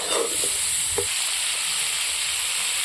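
Cauliflower and potatoes sautéing in a hot pan give a constant, loud, close sizzle and hiss, with a couple of brief stirring scrapes near the start.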